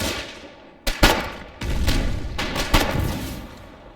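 Gunfire and explosions from the Foxhole war game, with several sharp heavy shots over a rumbling background of distant battle.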